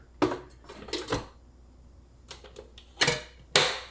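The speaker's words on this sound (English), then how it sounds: "Okay, and we'll just stick it in the rice cooker." A rice pot being set into a rice cooker while making sushi, heard as a few close, sharp metallic clinks and knocks separated by brief pauses, ending with a louder clunk.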